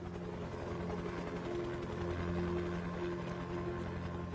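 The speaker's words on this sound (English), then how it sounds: "Helicopters coming and going and coming and going continuously." A steady, distant helicopter drone with a constant rotor hum, continuous and unbroken throughout, over a plane crash wreckage site.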